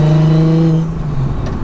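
A cheap tuned car driven hard, its gearbox whining with a steady tonal drone before the turbo-boosted engine note drops into a rougher, grittier rumble, heard close from inside the car.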